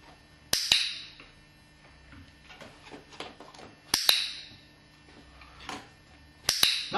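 A dog training clicker snaps three times at spaced intervals, sharp and close, with quieter thuds and movement sounds in between during puppy training.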